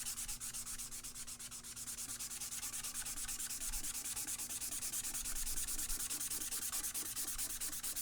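Steady back-and-forth scratching of fine 220 or 320-grit sandpaper rubbed by hand over a guitar's wood body, a continuous close rhythmic rasp with no voices.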